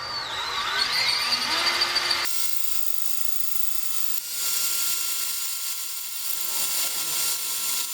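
A power drill enlarges a hole in a motorcycle handlebar, a Fasst Flexx bar for a Sur Ron Light Bee. A high whine is followed by a steady, loud, broadband grinding hiss that runs continuously, close up, with no talking.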